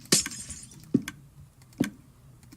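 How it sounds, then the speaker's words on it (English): Glass blocks placed one after another in Minecraft, three crisp glassy clicks spaced evenly about a second apart, close and clear against a quiet background with no talk. "Then we're going to put glass"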